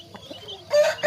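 Guinea fowl chicks being raised in a brooder call out in a cluster of short chirps and peeps, soft at first and then a louder burst of overlapping cheeping near the end, close by.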